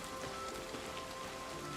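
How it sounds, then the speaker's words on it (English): Steady, soft rain patters on willow leaves and a water surface in the Oblivion video game, a continuous even hiss of drops with no talking. "The sound of the rain on the willow leaves."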